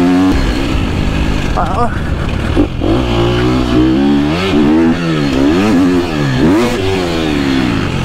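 A KTM semi-factory race motorcycle with a quick shifter rides on a race circuit, its engine revving up and down in rapid swoops with quick gear changes, loud and close, with someone speaking over it.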